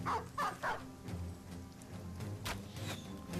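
A dog in the Battle Brothers video game gives three quick barks at the start, followed by a low game-audio backdrop with a faint scuffle.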